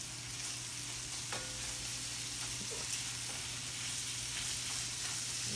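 Nacho sauce sizzles steadily in a pan as it cooks, a continuous close frying hiss with a low hum underneath and occasional faint clinks, no voices.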